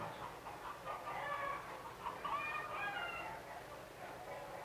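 Chickens cluck and murmur in a busy, moderately distant chorus at the Missouri State Fair, with soft irregular calls overlapping under a faint background din.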